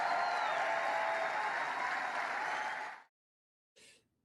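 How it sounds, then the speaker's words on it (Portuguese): A large audience gives dense, sustained applause to a speech, loud and steady before cutting off abruptly, followed by a short burst. "deixei esse trecho passar um pouco mais do que o normal por causa de todos os aplausos"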